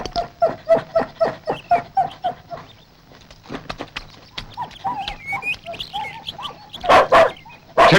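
Dogs bark in a rapid, regular series of sharp, fairly close barks for about three seconds, then sparser yelps and whimpers follow, with a couple of louder outbursts near the end.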